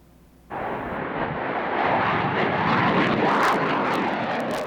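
Aircraft roaring overhead at the Cold Lake Air Show, a loud sustained engine rumble that swells in after a brief quiet start and holds steady to the end, with no talking.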